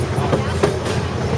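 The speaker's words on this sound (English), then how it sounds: "we are on the train heading over to see Santa" Irvine Park Christmas train ride, a steady rumble of a small train rolling along from on board, with faint clicking wheels and brief voices in the background.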